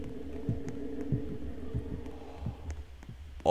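Throbbing heartbeat from the horror video game The Mimic, pulsing steadily and low in the mix over a dim ambient drone, with no voices.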